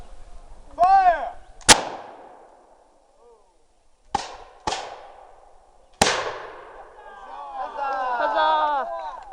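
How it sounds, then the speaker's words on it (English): Black powder muskets fire a rolling volley at a historical reenactment festival, several sharp cracks staggered across the clip with echoing tails, mixed with shouting and cheering voices. "Pulling back the full cock, rolling fire on my command. Fire!"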